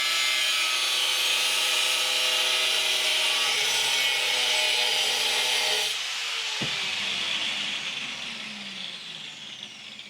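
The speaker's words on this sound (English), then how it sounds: "Then, using my angle grinder, I cut it out." An angle grinder cuts out a metal frame for a handmade tattoo machine, giving a loud, steady, harsh abrasive roar for about six seconds before the tone shifts and the noise gradually eases off.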